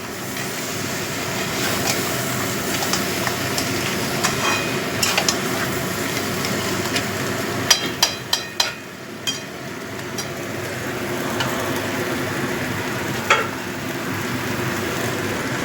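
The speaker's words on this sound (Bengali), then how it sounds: "গরম জল দিয়ে দিচ্ছি।" Hot water poured into a sizzling spice paste with crab for a Bengali crab curry, giving a steady loud frying hiss and bubbling with a few sharp clinks of utensils; a voice speaks briefly.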